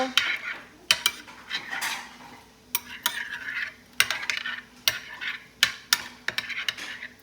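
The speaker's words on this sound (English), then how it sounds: "I'm also going to just mix the meatballs up a little bit in that sauce to make sure it's covered well" Meatballs being stirred in sauce inside a pot, a utensil clinking and scraping against the metal in repeated bursts, close and fairly quiet, with a faint background hum and no talk.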